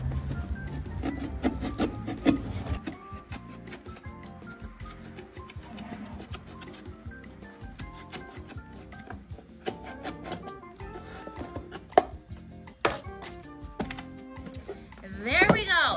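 A steak knife or craft knife sawing through a cardboard puppet box, with irregular scraping, rasping strokes and small taps at close range, fairly quiet, with a louder rustle at the end.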